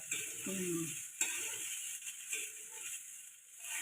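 Rice stirred in a pan for phodnicha bhat, a spiced tempered-rice breakfast, with a steady near sizzle and a few brief scraping, rattling stirs.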